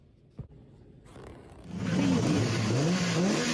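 Kart engines in a racing video game rising from near silence into a loud, wavering whine as the karts speed over rooftops, pitch sweeping up and down.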